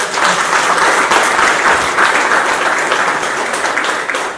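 Wedding guests at a civil marriage ceremony at a sector office applaud the couple, producing loud, dense, sustained applause from a crowd that carries on without a break.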